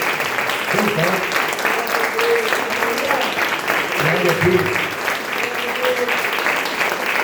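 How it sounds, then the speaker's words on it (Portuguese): A church congregation at a family worship service applauds steadily while a voice speaks over the clapping. "Dê uma salva de palmas para o Senhor Jesus."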